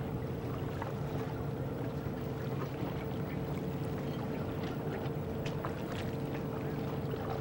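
A sailboat slips its mooring during a yacht race weekend, bringing steady broadband wind and water rush with faint hull and rigging noise underneath and no voices.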